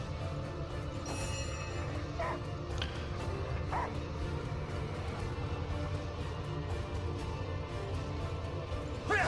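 A dog in the video game Divinity: Original Sin gives a few short, faint barks and yips early on, set against a steady bed of game ambience.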